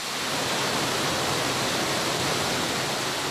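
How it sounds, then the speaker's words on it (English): Fresh water tumbling down an urban creek cascade in a city park makes a steady, dense rushing wash, continuous and fairly loud throughout with no voices. "there is plenty of fresh flowing water"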